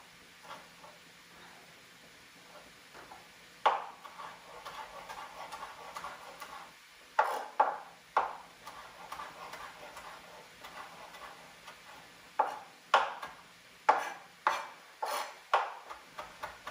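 A knife chops fresh tarragon on a board, starting with a few scattered cuts and then coming in quick, crisp bursts of several chops each, close and moderately loud with no talking.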